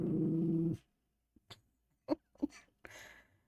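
A dog growls at a microphone in a dark room, giving a few short, separate low growls and huffs close to the mic after a louder sustained opening sound, with silent gaps between them.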